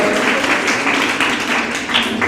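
Dense, continuous applause from an audience at an Urdu organisation's gathering, a loud, even wash of many hands clapping together with no pauses and no voices.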